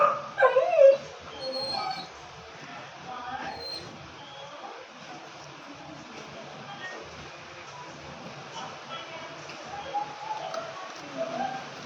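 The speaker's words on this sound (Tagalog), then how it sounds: "Ang ingay ng aso!" A dog barks in sharp bursts near the start, then whimpers and yips on and off under a steady background hum through the rest of the stretch, with some distant chatter.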